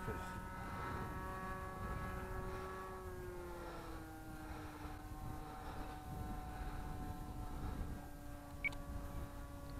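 An electric HobbyKing Race Cat model plane flies overhead, its motor giving a steady droning whine that dips slightly in pitch, heard at moderate distance with people talking over it.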